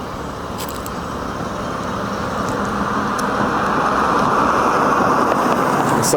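A 1984 Mercury Capri draws closer, its engine and road noise building from a broad steady rumble to a louder wash as it nears.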